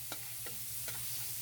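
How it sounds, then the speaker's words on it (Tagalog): Onions sauté in hot oil in a pan for a Filipino pechay and fish-head dish, giving a soft, steady sizzle with a few light stirring scrapes, faint and without talk. "Dito na diretso yung gisa."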